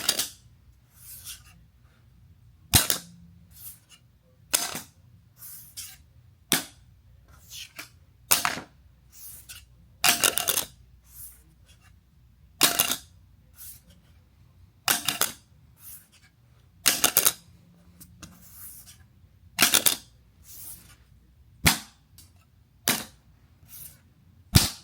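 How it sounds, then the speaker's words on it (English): Gemini Credit Card XRP Edition metal card being dropped and tapped, giving about fifteen sharp, bright metallic clicks and clinks at irregular intervals, close and isolated against a quiet background. "this is going to be the sound test of the Gemini Credit Card XRP Edition"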